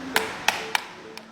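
Four sharp, hollow metallic taps on a faulty sardine tin, struck one at a time at uneven intervals, fairly quiet and close, with nothing else heard between them.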